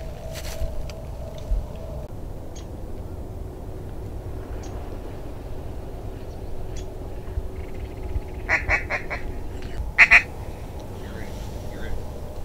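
Several mallard ducks quack in brief bursts near the end, fairly close, over a quiet outdoor background at an Oklahoma waterfowl hunting spot, with faint sounds of people moving around.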